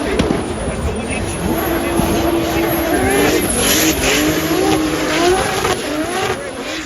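Drift cars compete at a DriftMasters event, engines screaming and revving while tyres squeal and skid in long wavering tones, loud and close, with an announcer commentating over the noise.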